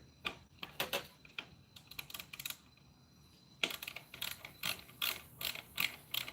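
A ratchet turns an Allen socket while a Harley-Davidson battery is being removed, making quiet rapid clicking bursts close by, broken by a pause and then resuming in short spurts.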